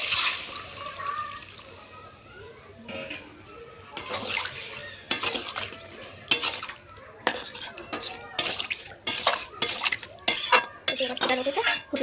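Boiled potatoes clatter and scrape in a pan as they are fried for an egg curry, with metal utensil clinks, stirring and a pour of water, in sharp bursts growing busier over a kitchen background; a voice talks at times.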